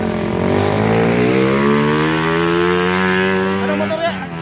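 A classic Ducati-style motorcycle engine revs steadily nearby, its strong harmonic drone holding and rising slightly in pitch across the whole stretch, loud and continuous with no talk over it.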